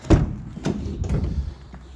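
A Renault Master III van door thuds shut with a solid low knock, followed by a second softer thump and some rattling as it settles, then quiet.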